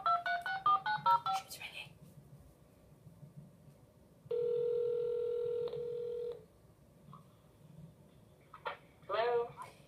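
A telephone dialing a call, with a quick run of keypad tones, then a steady ringback tone lasting a couple of seconds, heard between voices talking before and after.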